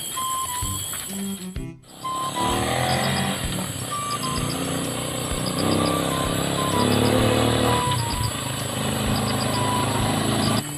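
A motorcycle draws nearer on a road among other traffic, its engine drone growing steadily louder and dense under background noise, with a brief dropout early on.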